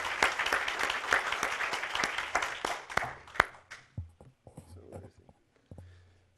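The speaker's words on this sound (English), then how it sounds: "we give all of our students another round of applause" Audience applause for students at a presentation event, a burst of close clapping that tapers off into a few scattered claps.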